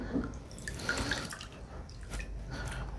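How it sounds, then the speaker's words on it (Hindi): Tap water runs and drips close by as a head of cauliflower is washed in a kitchen sink, with soft splashing and irregular drops over about three seconds. "इसको पानी से धो रहा हूँ मैं"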